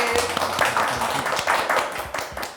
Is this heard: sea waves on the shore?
no